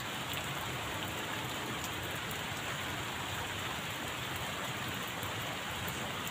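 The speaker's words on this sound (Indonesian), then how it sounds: "kebetulan hujannya sudah mulai reda ya Kang" Steady rain falls as a dense, even hiss of drops on surfaces, continuous and moderately faint with no voices.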